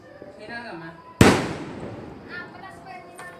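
A roman candle firework goes off with a sudden loud burst, its crackling roar fading over a couple of seconds, while people talk nearby before and after.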